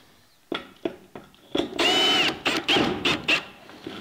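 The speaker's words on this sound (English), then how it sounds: "We can put these screws in." A power drill drives screws into a DIY metal roofing sheet, with a few short taps and then a longer whining run and several brief bursts, loud and close.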